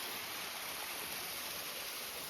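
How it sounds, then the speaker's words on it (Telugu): A waterfall gives a continuous, even rush of flowing water that holds steady throughout with no breaks. "ఆ సౌండ్స్, వాటర్ ఫాల్ సౌండ్స్ బయట అక్కడ విన్నారు కదా ఇంతసేపు."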